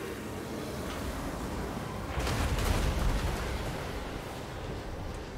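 Artillery fire in Total War Warhammer 2 battle rumbles as a dense, muffled barrage of booms and blasts, building to a heavier swell midway before settling back into steady distant thunder, with no talk over it.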